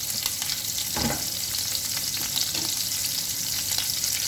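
Shrimp fry in a pan for a cheesy shrimp and sausage penne Alfredo, giving a steady close sizzle throughout with a brief louder crackle about a second in and no talk.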